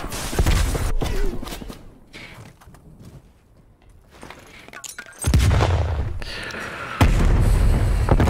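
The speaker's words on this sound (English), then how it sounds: "That's a grenade, that's a grenade." Grenade explosions in a video game, heavy close blasts with a rumbling tail, a big burst past the midpoint and another near the end, amid chaotic gunfire-like crackle.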